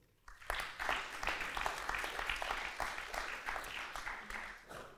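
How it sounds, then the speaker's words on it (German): Sustained applause from an audience at a German talk event, steady clapping that swells quickly and continues throughout. "herzlichen Applaus"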